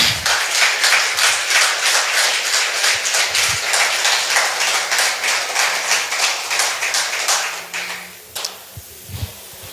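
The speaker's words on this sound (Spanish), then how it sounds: "Denle un aplauso al Señor." A church congregation claps in a steady, rhythmic unison beat for several seconds, loud and close, before the clapping fades out into scattered taps and quiet room noise.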